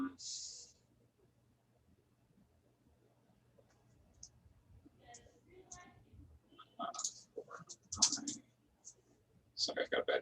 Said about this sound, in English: Sorry, I've got a bad keyboard.